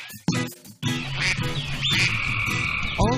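Cartoon frogs croak alongside duck quacks in a sung children's nursery rhyme, with several short croaks set against bright melodic music throughout.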